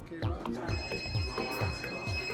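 A telephone rings with a repeated electronic trill, several evenly spaced bursts in quick succession, fairly close and moderately loud against a faint room background.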